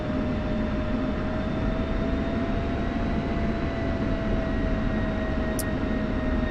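A flight video game aircraft taxis back and shuts down, a steady droning engine rumble with a constant whining tone holding level throughout, close and continuous.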